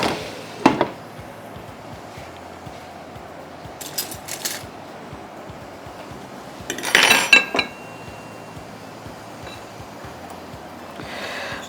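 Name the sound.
lid placed on cooking pot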